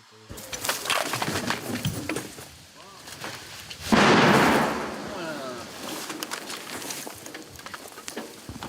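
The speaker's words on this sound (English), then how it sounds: "Barely an hour after the drone vanishes, explosions start." Distant booms and thuds of artillery shelling in the Kursk region, with a heavier blast partway through, amid birdsong, rustling and faint voices.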